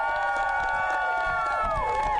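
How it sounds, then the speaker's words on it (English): A crowd at a cricket awards ceremony in Tallinn, Estonia, gives a sustained cheer of overlapping shouted voices and whoops that trail off in falling tones, steady and fairly loud throughout. "that's how you do a cheer"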